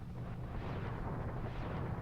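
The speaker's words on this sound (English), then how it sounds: "Anti-aircraft artillery gun there. Just run up, shoot with 2 Hydras." Hydra rockets striking an anti-aircraft artillery gun in the helicopter game Desert Strike: a steady, dense explosive rumble with heavy low-end roar throughout, loud and continuous with no talking.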